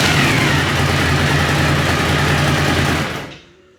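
A Suzuki V-Strom DL 1000 motorcycle engine runs steadily and loudly up close with a dense, even throb, then cuts off abruptly near the end, leaving brief silence.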